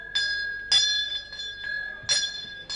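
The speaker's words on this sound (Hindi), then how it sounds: "लानत देने के लिए घंटी बजाता हूँ" A small bell rings repeatedly in an uneven rhythm, several bright metallic strikes close by, each ringing briefly before the next.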